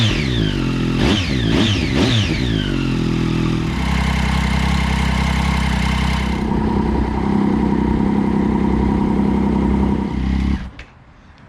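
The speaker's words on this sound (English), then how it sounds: "just run the engine for a bit, get her nice and warm" A motorcycle engine run to warm up, blipped in three sharp revs at first, then settling into a loud, steady near idle before cutting off abruptly near the end.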